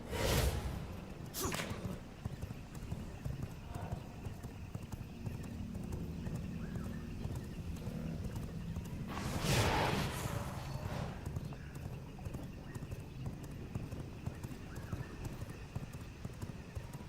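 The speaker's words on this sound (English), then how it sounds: "I actually think I'll get on my horse as well" In V Rising, a horse's hooves clop in a steady galloping rhythm, fairly quiet and even, with two sharp whooshing bursts near the start and another midway, and a brief neigh.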